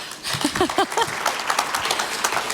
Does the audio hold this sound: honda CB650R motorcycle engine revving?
no